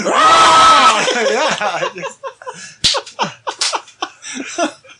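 A person imitates a slimy creature's scream of pain: a long, strained, loud shriek, followed by laughter and chatter from others.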